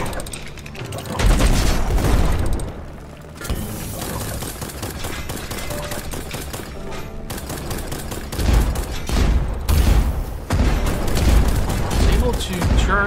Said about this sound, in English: my guns are just not able to reach